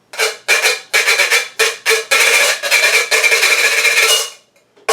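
Rhythmic scraping of a ridged tin can played as a guiro, quick raspy strokes in a steady pattern, close and loud, ending with one longer scrape.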